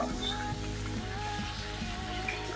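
Sukto, a Bengali mixed-vegetable dish, simmering covered in a pan, with a steady low sizzling bubble and faint soft clinks, close and continuous with no talk.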